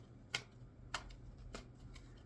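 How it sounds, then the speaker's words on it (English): Tarot cards shuffled in a few quick riffles, each a short crisp papery burst spaced roughly half a second apart, quiet and close with no talking. "Let's get a couple more shuffles here."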